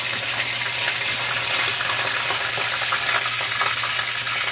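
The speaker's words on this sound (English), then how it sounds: "I'm now putting in my fish to fry" Fish frying two at a time in hot oil in a pot: a loud, continuous, dense sizzle and crackle, steady throughout with no pauses and no voices.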